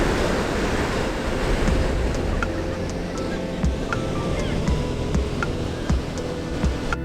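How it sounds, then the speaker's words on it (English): Ocean waves breaking on a beach in Washington, a steady broad wash of surf with wind buffeting, continuous and fairly close, with faint intermittent clicks over the rolling noise. "The beach was beautiful."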